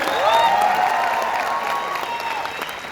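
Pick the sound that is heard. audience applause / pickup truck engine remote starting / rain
audience applause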